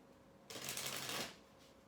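Tarot cards are shuffled in one brief, soft riffling burst that lasts under a second in a quiet room. Nobody speaks.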